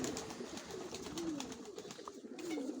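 Pigeons in a village loft at Zelenivka, Mykolaiv region, coo steadily in low repeated throaty calls, fairly close, over a continuous background hiss with no talk.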